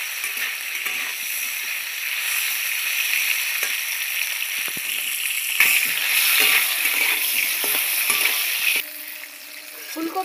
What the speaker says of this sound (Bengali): ফুলকপিগুলো লাল করে ভেজে নেব।